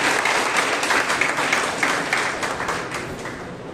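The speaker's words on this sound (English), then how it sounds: "can we clap for them?" Retreat audience applauding game performers, a dense burst of clapping from many hands that holds steady and slowly tapers off.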